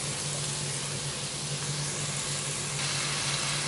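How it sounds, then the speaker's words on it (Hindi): Spice masala of salt, red chilli, roasted coriander and cumin frying in a pan, giving a steady soft sizzle that runs throughout, close and fairly quiet with no voices. "अब मैं इस मसाले को थोड़ी देर पकाऊंगी और भूनूंगी"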